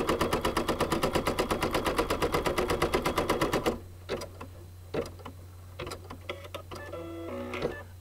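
A home embroidery machine stitches a placement line for a shamrock fabric appliqué on a four-leaf clover project, a loud rapid even needle rattle for about four seconds, then stopping, followed by a few quiet clicks and handling noises.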